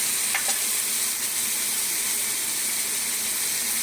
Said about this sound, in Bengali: এখন ভালো করে কষাতে হবে মশলাটাকে